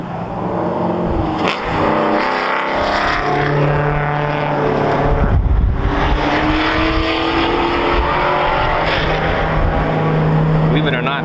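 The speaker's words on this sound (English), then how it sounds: "Believe it or not, that's a drift car." A drift car being driven on the MSR Houston race track, its engine note droning and shifting as it passes, with people talking nearby over the steady motor sound.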